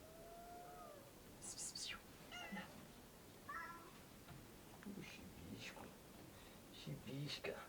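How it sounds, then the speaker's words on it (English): A newly adopted cat on a homestead farm gives several faint, short meows, scattered across the clip over a quiet hiss of background noise, with soft voices nearby. "Yeah, I got a cat."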